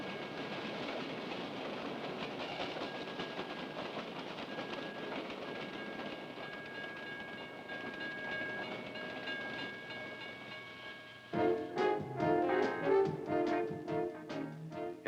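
A freight train rumbles steadily past at a distance, then rhythmic clattering and metallic clanks of rail cars grow louder near the end.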